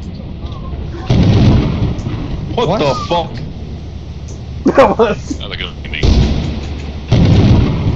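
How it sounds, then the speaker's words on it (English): In the video game Lethal Company, heavy rumbling thunder from a lightning strike rolls in loud bursts, with players talking and shouting over it. "And lightning."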